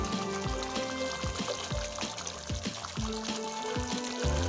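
Water poured into a pot of chicken biryani flavoured with rose water, a steady close pouring and splashing that runs throughout with some clatter and soft knocks in the background, no talk.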